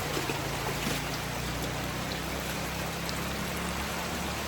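A flooded stream spilling over a road sends a steady, even rush of water with low churning underneath, continuous and fairly close, with no voices.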